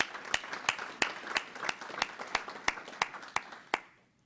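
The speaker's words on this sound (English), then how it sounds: "a little applause for all our power users" A small group claps in a slow, even rhythm, about a dozen sharp beats that stop abruptly, leaving a short fading tail.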